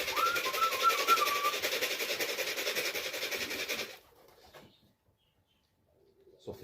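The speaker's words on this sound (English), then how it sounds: "Oh, that pigeon." Racing pigeons in a loft during a young bird race, giving soft repeated coos and rustling over a hissy background for about four seconds, then near silence with a faint sound at the end.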